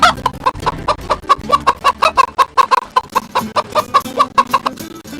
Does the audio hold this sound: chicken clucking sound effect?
yes